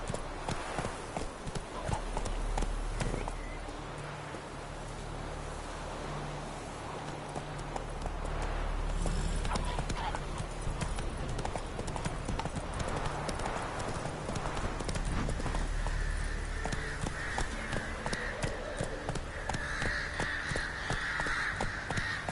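Horse hooves clip-clopping at a steady gallop in The Witcher 3, loud and continuous, with crows cawing in the background and no talk.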